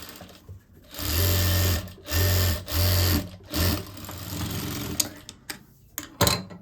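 A household sewing machine stitches around the curved neckline of a sleeveless blouse, whirring loudly in four slow, careful bursts with short pauses, then easing into lighter handling clicks near the end.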